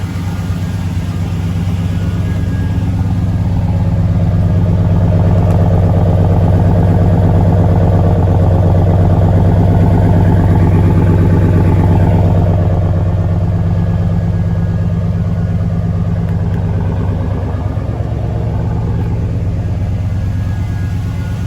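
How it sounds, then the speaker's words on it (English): Exhaust of a 1971 Chevrolet Chevelle pro touring build with a 6.0 LS V8, a steady deep rumble at idle that holds loud and close for the whole stretch, with a slight swell in the middle and no voices. "Check out the exhaust."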